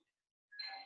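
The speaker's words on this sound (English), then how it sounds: "if my doorbell rings one more time" A home doorbell chimes briefly and faintly after a quiet pause, cutting off abruptly, with no voices.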